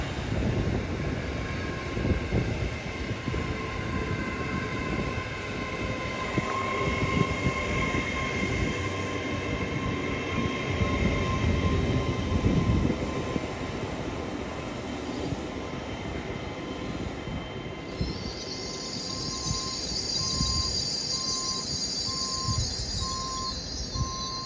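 A Class 801 train, unit 801-103, rumbles past at Peterborough on the East Coast Main Line with a loud, sustained roar of wheels and rails, steady hum tones, and a high whine rising near the end.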